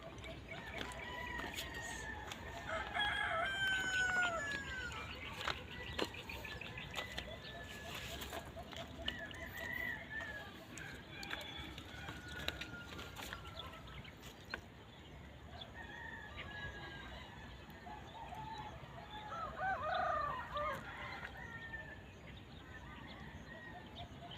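During a bird hunt, chicken-like clucks and crowing calls come through faint at a distance in several bursts over a quiet outdoor background, with scattered knocks and rustles.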